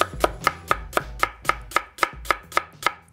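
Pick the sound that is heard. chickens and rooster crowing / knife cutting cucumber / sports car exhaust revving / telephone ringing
knife cutting cucumber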